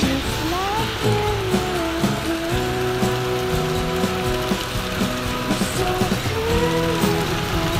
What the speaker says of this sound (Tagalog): Yan, lakas ng ulan.